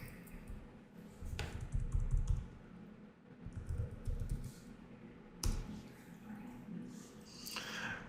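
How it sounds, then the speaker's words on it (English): Commands typed on a computer keyboard for Coreform Cubit meshing software, a close, quiet run of irregular key clicks and taps with short pauses between bursts. "So now I'll type reset again."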